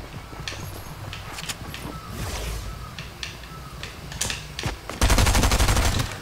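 Gunfire in the video game Fortnite, scattered single shots through the first five seconds, then a loud rapid automatic burst near the end, with no talk over it.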